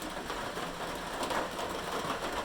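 Steady rain drums on a metal roof, a dense, constant hiss-and-patter wash at close range with no voices over it.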